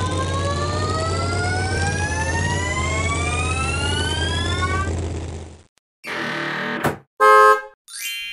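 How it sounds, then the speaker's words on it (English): A cartoon train's horn blares loudly as the train approaches an accident site. Several rising tones sound over a steady low rumble for about six seconds, followed by a few short, sharp bursts. "Wait a minute, I hear something. This is a train, and it goes directly to the accident site."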